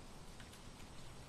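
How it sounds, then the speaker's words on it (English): Continuous patter of rain in the airport-management video game Airport CEO, a dense, even hiss of drops at moderate level that runs unbroken and alone. "I feel like it's raining, but I'm not sure"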